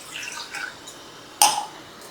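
Water poured into a cooking pot to start a sugar syrup for malpua: a short, close splash and gush arrives suddenly near the end after faint kitchen quiet.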